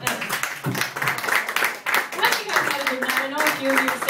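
A small crowd at an Edinburgh Fringe show breaks into steady, close applause, with people talking over the clapping.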